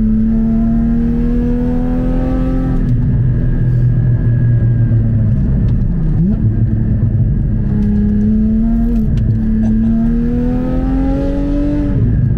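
A Porsche Cayman GT4 981 tuned by about 70 horsepower, heard from inside while driving on track, holds a loud, close engine drone that rises and falls in pitch with throttle changes, without speech.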